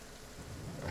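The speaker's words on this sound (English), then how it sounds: "The rain's annoying." Steady rain falling in the survival video game The Flame in the Flood, a dense continuous hiss that swells louder toward the end of the brief moment, with no voices.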